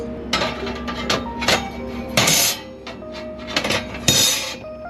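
Metal grill grates and griddle tops from a RexFire portable grill and fire pit are handled close by, with irregular clinks, clanks and scraping knocks of metal on metal. No talking is heard.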